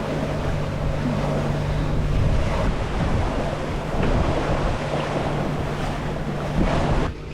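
A sailboat runs through waves in 20 knots of wind near Isla Partida, with constant rushing water and wash over heavy wind buffeting of the microphone, loud and unbroken.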